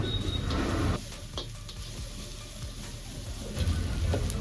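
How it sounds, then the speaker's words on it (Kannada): Ginger garlic paste sizzling in hot oil in a pan, a steady close frying hiss with scraping stirring strokes, for egg rice. "ಇವಾಗ ಇದು ಫ್ರೈ ಆಗಿದೆ. ಇದಕ್ಕೆ ಒಂದು ಸ್ವಲ್ಪ ಶುಂಠಿ ಬೆಳ್ಳುಳ್ಳಿ ಪೇಸ್ಟ್ ಆ್ಯಡ್ ಮಾಡವ."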